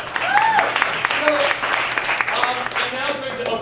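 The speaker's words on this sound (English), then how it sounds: "Give Ed a round of applause." Audience applause at a storytelling improv comedy set, a moderate burst of clapping mixed with cheers and voices throughout the short stretch.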